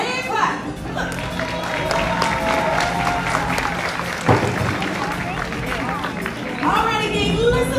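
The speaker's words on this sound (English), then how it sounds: "Let's give them a hand clap." Audience applause and clapping from a crowd at a live show in Animal Kingdom, a steady wash of hand claps with crowd babble throughout, swelling again near the end.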